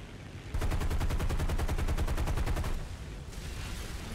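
Rapid automatic gunfire in War Thunder, a burst of evenly spaced loud shots lasting about two seconds, followed by a lower, rougher din of continued combat noise.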